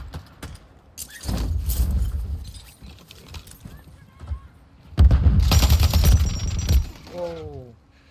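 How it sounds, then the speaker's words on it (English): Rapid bursts of gunfire crackle in Call of Duty Warzone (Modern Warfare III), two loud sustained volleys separated by a quieter stretch of scattered distant shots, followed by a brief voice at the end. "Where are these shots coming from?"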